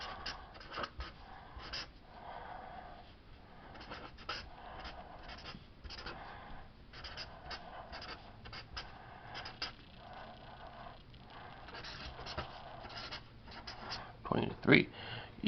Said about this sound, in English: Hatching, kind of cross hatching.